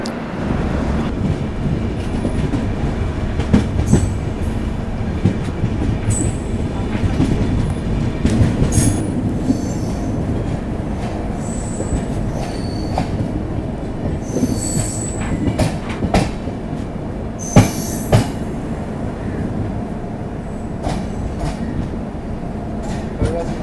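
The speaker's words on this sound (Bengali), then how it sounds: "2 নম্বর প্ল্যাটফর্মে দিয়েছে আমাদের ট্রেনটা" Howrah to Dibrugarh train running into Barpeta station: a steady, loud rumble of rolling wagons with wheel squeals and sharp rail clicks throughout.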